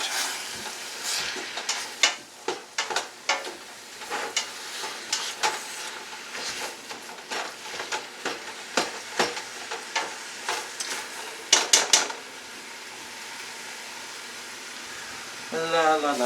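Ground meat for spaghetti sauce being stirred in a frying pan, a soft steady sizzle under repeated scraping and clacking of a utensil against the pan, close and fairly quiet, with no talking.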